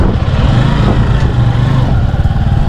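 Kawasaki Bajaj CT150 air-cooled motorcycle engine runs with a loud, steady low throb and chugging pulse, close by, with no talk over it.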